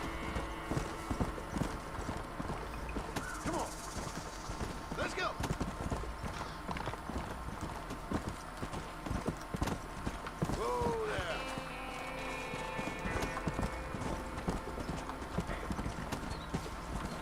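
Horse hooves clip-clop steadily in the Red Dead Redemption video game, with a whinny partway through and someone talking over the moderate, rhythmic hoofbeats.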